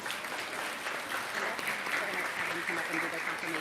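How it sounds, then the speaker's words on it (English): Students at the Connecticut Kid Governor announcement applaud themselves, a soft, even patter of many hands clapping at a distance, faint and unbroken throughout. "Green Acres students, give yourselves a round of applause for being such a wonderful audience today."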